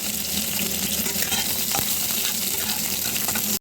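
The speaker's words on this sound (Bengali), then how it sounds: "উচ্ছেটা এবার ভেজে নেব।" Bitter gourd fries in mustard oil in a kadai for traditional sukto, a continuous crackling sizzle with stirring scrapes and one sharp clack near the middle, close by and without talk.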